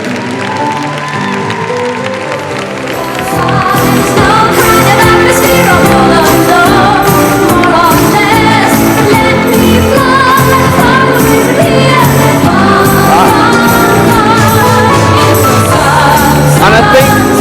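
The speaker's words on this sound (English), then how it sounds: "Please give me a massive round of applause" A large comic convention panel audience bursts into sustained, loud applause and cheering for the Red Dwarf cast at MCM London, building after a quieter start and holding as a dense roar of clapping.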